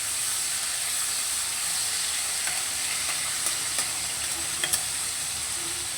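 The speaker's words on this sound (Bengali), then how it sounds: "নুন হলুদ মাখিয়ে রাখা চিংড়ি মাছটাকে হালকা করে একটু ভেজে নেব।" Large prawns coated in salt and turmeric frying lightly in a pan, giving a steady, close hiss of sizzling oil with a few faint scrapes and clicks near the end, no voices.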